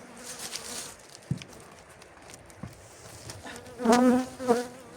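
Honeybees buzz out of the hive in a soft, steady drone, with a few louder bursts as individual insects pass close.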